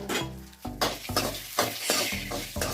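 Cashews and peanuts frying in a pan with curry leaves, stirred in several quick scraping strokes over a bright close sizzle.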